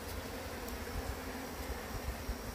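Bees at a hive entrance give off a faint, steady buzzing hum, a soft insect drone that continues without pause and with no talking.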